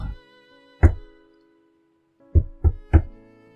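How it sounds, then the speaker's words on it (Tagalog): Slow knocks on a door in a quiet room: one knock, a pause, then three spaced raps, each a firm, near thud against a soft background of faint music. "Dahan-dahan siyang kumatok."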